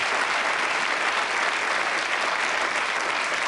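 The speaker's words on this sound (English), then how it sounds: "a round of applause for Deborah Sutherland for a very clever question" Studio audience on a TV quiz show applauding steadily and densely, a continuous loud wash of clapping with no pauses from start to finish.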